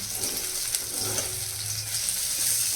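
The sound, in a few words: food frying in a pan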